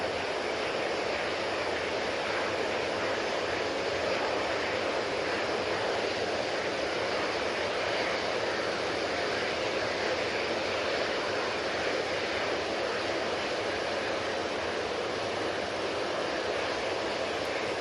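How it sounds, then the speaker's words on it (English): An easyJet Airbus A320ceo departing Manchester Airport for Istanbul makes a continuous, even jet engine roar with a wind-like hiss, sustained throughout at close range and without any talking. "That's the Easyjet to Istanbul using a 320 CEO."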